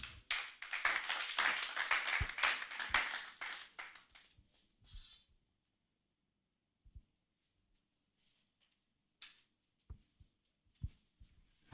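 Clapping from an audience at a professional business summit, brisk and moderately loud for about four seconds before thinning into a few scattered claps and taps, followed by near silence with occasional small knocks.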